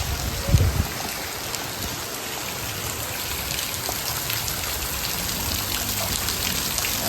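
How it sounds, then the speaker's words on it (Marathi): Rainwater runoff from hillside drains rushes in a steady, even wash of water noise, with a brief dull thump near the start. "सगळं डोंगराचा गटराचा पाणी इकडे बघा बघा"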